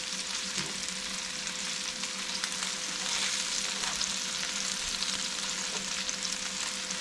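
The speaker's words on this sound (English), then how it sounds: "cooking greasy food in a cast iron is great for the pan" Swedish meatballs fry in a greasy cast iron pan with a steady, dense sizzle that holds close and even throughout, with only faint scraping now and then and no voices.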